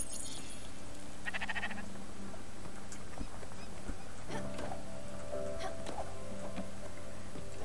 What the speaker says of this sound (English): Loud sheep.